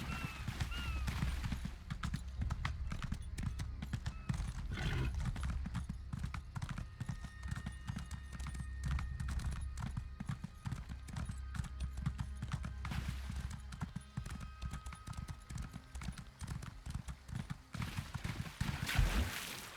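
Horse hooves clip-clop in a steady walking rhythm in The Elder Scrolls Online, a continuous clear beat over low ambient game music, with faint voice lines now and then.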